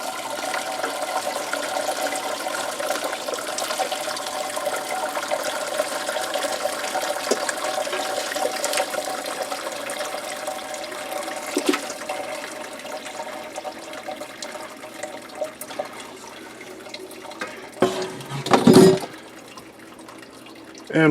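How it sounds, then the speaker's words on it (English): Hot chicken soup broth poured and draining through a strainer, a steady rushing liquid flow that tapers into trickles and drips, with a brief louder splash near the end. "Pour your liquid through first and let that drain before you dump in too much of the skin and bones"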